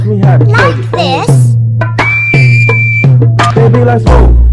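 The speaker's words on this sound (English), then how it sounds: "You put your lips together and blow. Like this." A person whistles a single sustained, thin tone for about a second, set among bursts of talking, including a voice.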